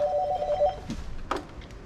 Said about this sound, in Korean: 나가라고 전화까지 오네.